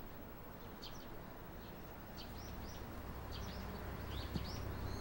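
Warbling white-eyes visit camellia flowers, giving faint, high, short chirps in several scattered bursts over a steady, broadband outdoor background.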